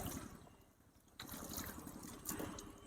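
Water is poured onto a graphene-coated car surface, a soft trickle that pauses briefly, then comes back as a steady, slightly stronger splashing flow, close and fairly quiet.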